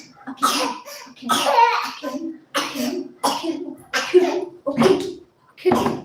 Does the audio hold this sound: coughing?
yes